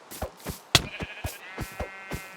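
A Minecraft sheep lets out one clear, buzzy bleat amid a regular beat of soft, repeated thumping footsteps, close and distinct against an otherwise quiet game background.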